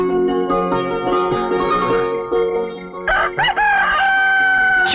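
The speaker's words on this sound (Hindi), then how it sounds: "मुर्गे ने कब की बांग दे दी?" A rooster crows loudly and close in a Hindi film scene, a long drawn-out cock-a-doodle-doo followed by a second rising call near the end, with clucking-like tones in between and no speech.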